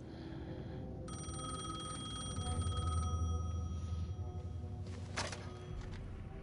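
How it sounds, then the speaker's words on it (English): A telephone rings in Alan Wake 2 with a clear repeating electronic bell tone, fairly close, followed by a thunk near the end and no talking. "Phone was ringing."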